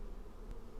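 Bees hum steadily around a mass of dark yellow honeycomb hanging in a cave, a dense continuous buzzing drone with a faint brief click near the middle.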